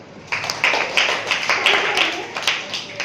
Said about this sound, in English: Why don't you clap for them?